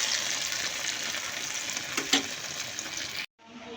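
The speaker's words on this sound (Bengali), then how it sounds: "এই তো আমার ভাজা পিঠা বানানো হয়েছে" Pitha rice cakes fry in hot oil with a steady, close crackling sizzle, a brief louder spatter near the end, then a short silence before the sizzling resumes more quietly.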